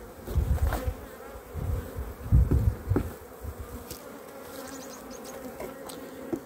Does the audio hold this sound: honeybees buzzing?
yes